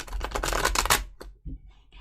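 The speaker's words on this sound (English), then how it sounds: "One more shuffle." A deck of tarot cards is riffled in a quick rapid flutter for about a second, followed by a few soft taps and handling sounds.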